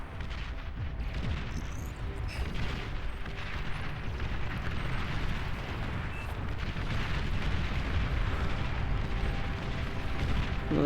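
Artillery fire from massed T1 artillery emplacements in an 8v8 Beyond All Reason match on All That Glitters, a dense, continuous rumble of booms and explosions layered over one another without any break.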